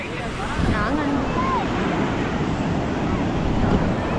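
Sea waves wash continuously onto a beach in a broad, steady rush, with wind buffeting the microphone and a few faint bird-like or distant calls above the surf.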